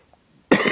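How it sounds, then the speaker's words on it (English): A single harsh, wet cough bursts out suddenly after near silence, loud and close. "got a bit of a chesty cough"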